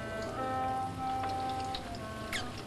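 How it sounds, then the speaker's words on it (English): Steady rain patters across a surface, a continuous soft hiss with scattered drip-like ticks, no voices. "Raining then, just like it is now. Keeps raining all the time."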